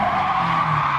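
A Honda S2000 in the Gran Turismo 7 racing game, driven on Grand Valley Highway, squeals its tires through lift-off oversteer in one loud, sustained screech over the engine note.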